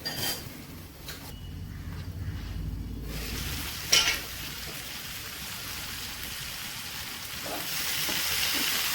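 A homestyle prawn roast cooks in a pan under a lid, with a steady close sizzle and bubbling, one brief metallic clank partway through, and no talking.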